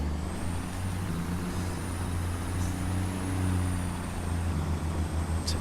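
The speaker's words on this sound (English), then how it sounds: "It's a big old truck this. It actually feels a little bit heavier, a little bit bigger than the Cat one we used last time out." Heavy Kenworth truck in Construction Simulator 2 pulling away: a steady low diesel rumble with engine note swelling slightly, a faint high whine above, a brief hiss near the end, no talking.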